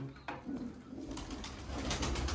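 Red-eyed breeder pigeons coo in a low, steady murmur, several birds close by with soft rolling calls layered over a busy background, no talk.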